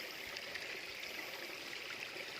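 A clear mountain river rushes over rocks at the bottom of a ravine, giving a steady, broadband wash of flowing water that stays even and close for the whole stretch, with no voices.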